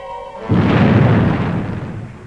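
Spaceship retro rockets firing in a puppet science-fiction series: a sudden loud roaring blast cuts in after a brief tone and holds as a sustained rumble, easing off slowly with no voices over it.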